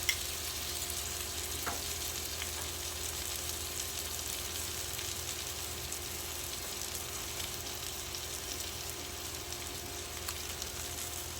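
Food frying in a single pan, a steady soft sizzle running continuously at an even level with a faint click or two, no voices over it.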